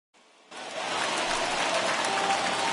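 Heavy rain pours down on a baseball stadium during a Detroit Tigers at Cleveland Indians game, a dense steady hiss that swells up quickly and holds loud without talk.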